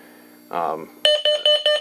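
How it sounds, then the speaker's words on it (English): A Simplex 4100ES fire alarm module sounding the Code-4 carbon monoxide signal: four short, loud, evenly spaced electronic beeps that follow a brief burst of speech. "it's doing standard Code-4, and that's coming from that module up there"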